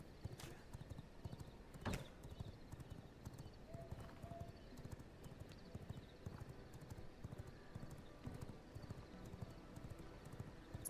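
Horse hooves clip-clop steadily in V Rising, a rhythmic clatter of footfalls at moderate volume under quiet game ambience, with a brief whinny-like accent and a sharp click near the start.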